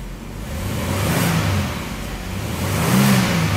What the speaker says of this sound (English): We'll give it a bit of a rev for you now.